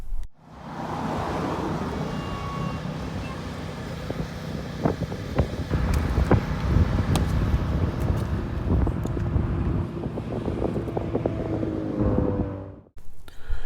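Strong wind in Texas buffets the microphone in loud, rumbling gusts for the whole stretch, with scattered knocks and a faint engine drone beneath.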